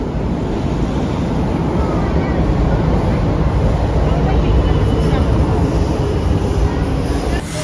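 Inside an underground Delhi Metro station, a loud, continuous roaring rumble fills the space, like a train running through, steady throughout. Voices can be heard talking over it.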